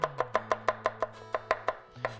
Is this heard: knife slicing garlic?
yes